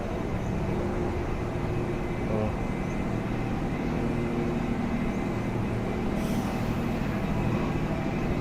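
KRL commuter train at Universitas Indonesia station, a steady rumbling roar of rolling stock that runs throughout, with a brief brighter hiss near the end and faint voices in the background.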